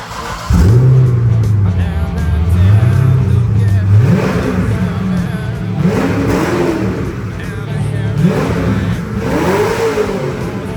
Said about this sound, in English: Time to start this with the new exhaust